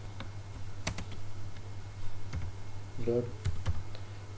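Keys clicking on a computer keyboard while code is typed, a few sharp taps spaced irregularly, with a voice talking over them.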